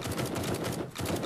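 Gunfire in the zombie survival game 7 Days to Die, a rapid run of close, loud shots in a quick rhythm, broken by a brief pause before the burst resumes.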